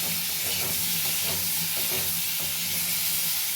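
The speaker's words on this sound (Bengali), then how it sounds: "এরপরে এর উপরে দিয়ে দেবো হলুদ গুঁড়ো। ভালোভাবে নেড়ে নেব।" Half-boiled potatoes tossed with turmeric powder in a pan, stirred with a steady soft sizzle and hiss of frying under the scraping, continuous and close.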